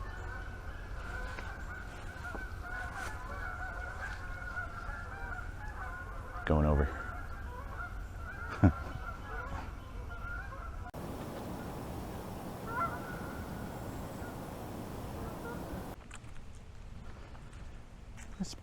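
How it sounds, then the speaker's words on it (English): Geese honking outdoors near a bird blind at Dutch Gap Conservation Area amid steady open-air background noise, with a louder burst of calls partway through and people talking nearby. "I hear a bunch of geese though."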